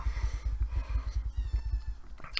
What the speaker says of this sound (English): He is a relatively new kitten